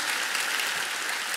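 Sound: audience applause in church

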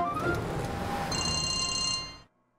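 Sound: telephone ringing

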